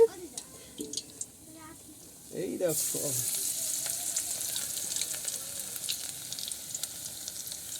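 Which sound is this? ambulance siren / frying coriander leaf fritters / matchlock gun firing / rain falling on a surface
frying coriander leaf fritters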